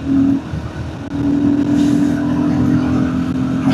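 A Royal Enfield Guerrilla 450 motorcycle accelerates hard on a highway, a loud close engine drone holding a steady pitch after a brief dip, with rushing wind noise over it.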